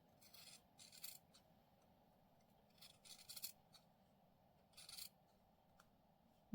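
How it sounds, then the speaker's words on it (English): Scissors trim fabric in a quiet sewing craft session, giving three faint bursts of soft rasping snips separated by near silence. "I may even trim it a little bit thinner"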